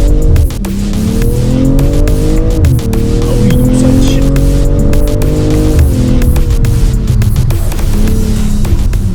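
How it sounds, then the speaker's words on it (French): A BMW M440i makes a standing-start launch, its engine revving hard and climbing through loud gear-by-gear pulls with brief shift dips, heard close up from inside the car. "faire un départ arrêté"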